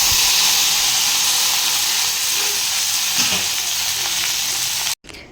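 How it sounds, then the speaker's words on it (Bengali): Okra fries in hot oil with nigella and mustard seeds, giving a loud, steady sizzle that stops abruptly near the end. "এখানে মা ঢ্যাঁড়স কেটে রেখেছে, এটাকে আমি ভেজে নেব"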